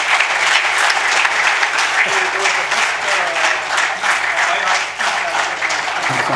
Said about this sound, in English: A big round of applause to Mr. Muruga.